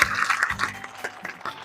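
Applause from a TV quiz show audience for the four child winners of Kaun Banega Champion, a short, moderately loud burst of scattered clapping with some background voices mixed in.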